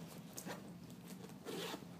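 Zipper on a school backpack pulled open in a few quick ratcheting bursts, close and fairly quiet, with no talking.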